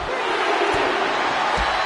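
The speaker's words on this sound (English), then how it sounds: "This capacity crowd is really willing these competitors on." Arena crowd in WWE 2K25 cheering during a women's wrestling match, a dense, steady roar of many voices with a couple of dull thuds underneath.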